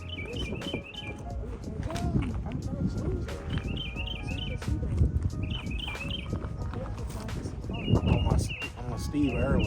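Bird song from a suspected mockingbird along a wooded nature trail in Midlothian, Texas: repeated bursts of high, warbling chirps recurring through the clip, moderately near, over steady outdoor background noise and footsteps.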